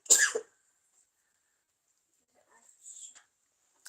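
One sharp human sneeze bursts out loudly at the start. Quiet follows, with a few faint small sounds near the end and no speech.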